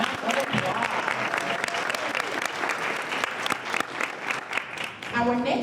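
Audience applause for a school contestant at a youth speech competition, a dense sustained clapping from a room full of people lasting several seconds, fairly loud and steady before tapering near the end.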